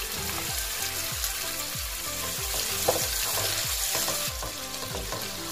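Onions and chopped tomatoes sauté in a pan for prawn curry, giving a steady close sizzle with repeated stirring scrapes in a regular rhythm and no talking.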